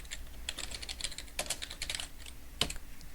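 Someone types quickly on a computer keyboard, entering track titles. Close, uneven clusters of key clacks are broken by short pauses and one sharper keystroke near the end.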